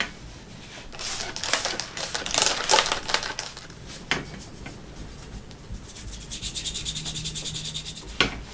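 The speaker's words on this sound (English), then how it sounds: "A little steel wool takes the minor surface rust right off." Steel wool rubbed by hand over minor surface rust on a 1969 Schwinn bicycle frame, a close, rhythmic scratchy scrubbing in bursts with short pauses, no talking.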